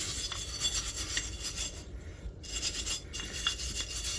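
A small stainless wire brush scrubs rust spots on a classic South African three-quarter cast iron potjie, making a steady, close, gritty rasping that runs almost continuously with one brief pause midway.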